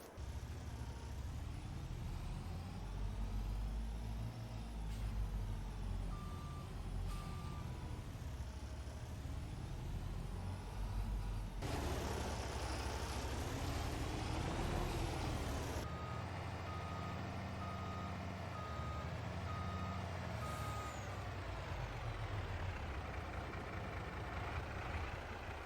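A delivery truck in Farming Simulator 22 reverses to drop off wood chips. Its evenly spaced reversing beeps repeat over a steady idling engine rumble, with a hiss partway through.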